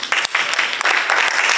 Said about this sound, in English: So give yourselves another hand of applause.